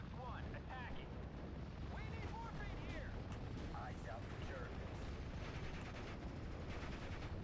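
In a Steel Division World War II strategy game battle, a P-51 Mustang strafes with a steady rattle of distant gunfire over a dense, continuous wash of combat noise, with faint whistling shells mixed in.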